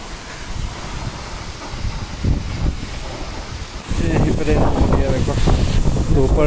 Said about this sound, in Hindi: देखिए बहुत फोर्स आ रहा है, पानी हवा का फोर्स भी है, और पानी उसी वजह से पानी का फोर्स आ रहा है